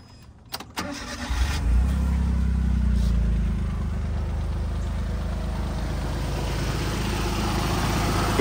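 A 1996 Suzuki Jimny engine cranks briefly, catches and fires up, then settles into a steady, close low rumble at idle that holds evenly to the end.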